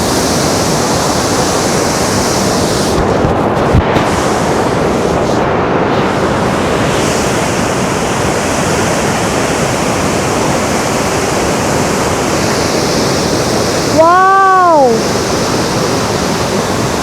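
Ban Gioc Waterfalls on the Vietnam border roar as a loud, constant wash of falling water heard from close by, with wind buffeting the microphone and a brief higher whine near the end.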